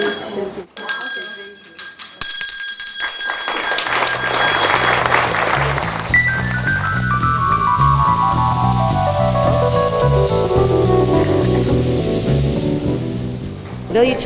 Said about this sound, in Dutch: Zullen wij samen de bel nog een keer laten rinkelen en daarmee de expositie voor geopend verklaren?